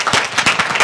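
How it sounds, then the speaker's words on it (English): An audience at a health care technology summit panel claps for the panelists, a steady close round of applause from many hands with no talk over it. "Let's give the panelists a final round of applause."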